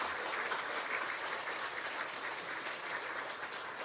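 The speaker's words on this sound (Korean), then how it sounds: "큰 박수로 환영해 주시기 바랍니다" A church congregation at a Sunday service applauds to welcome a visiting professor, steady, even clapping from many hands throughout, moderately distant and without talk.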